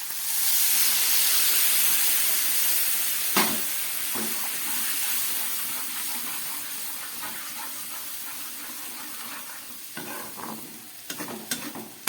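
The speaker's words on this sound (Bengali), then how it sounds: "ঝোলটা একদম ফুটে উঠেছে।" Fish curry made with mustard and coconut milk bubbles at a full boil in a pan. A steady, close hiss and sizzle fills the scene, joined by a few light clinks of utensils near the end.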